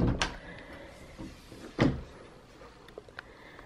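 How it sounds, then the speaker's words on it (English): A bedroom door swings open with a soft click, then a louder thump or clunk midway, followed by a few faint light knocks in a quiet indoor room, with no talking. "And so let's open the door."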